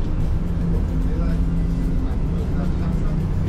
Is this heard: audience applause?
no